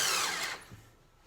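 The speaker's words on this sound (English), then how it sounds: "Sounds like my drill is dying." Cordless drill on a weak battery, driving for a saw stand shelf: a loud, strained whir for about half a second, then it fades and dies out into near silence.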